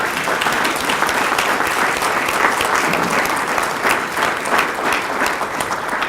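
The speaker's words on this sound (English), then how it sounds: "can we have another round of applause for Clark this morning?" Sustained applause from a crowd at a breakfast event, steady and loud throughout with dense overlapping claps and no pauses.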